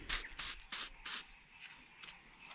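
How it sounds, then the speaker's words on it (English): Head gasket sealer sprays from an aerosol can onto the head gasket of a 1948 Diamond T 201 pickup engine. Four short, close, hissing bursts come in a quick rhythm, followed by fainter spurts. "we're gonna spray this head gasket down right here"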